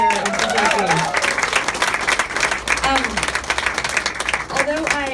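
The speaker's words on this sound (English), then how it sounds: "I'd like all of you to give a round of applause to Elizabeth and all the organizers" An audience claps in a steady broadband wash for Elizabeth and the event organizers in Kentucky, with a voice talking over the applause the whole time.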